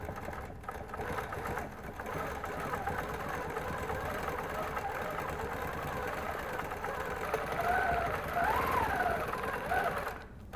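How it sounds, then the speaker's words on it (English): A quilting machine stitches with white thread in an even, steady mechanical whir that runs close and continuous throughout, with no talking. "we'll go ahead and stitch over here in white so we can show the three all next to each other"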